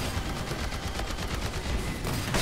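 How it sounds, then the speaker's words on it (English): Rapid shotgun blasts in Earth Defense Force 5 fire in a dense, rhythmic barrage of loud booming shots over a couple of seconds, no talking. "My shotgun does more damage than my railgun vehicle does."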